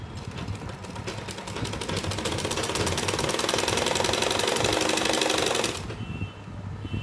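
A sewing machine runs fast and close, stitching the side seam of soft palazzo pants in a rapid, even mechanical rattle for several seconds before stopping abruptly, leaving only faint room noise.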